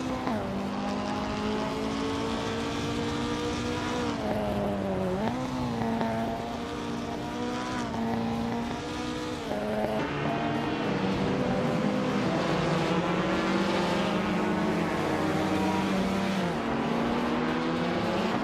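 Group 3 race cars lapping Wakefield Park in a racing game, several engines droning loudly and continuously with rising and falling pitch as they shift gears, with occasional tyre squeal.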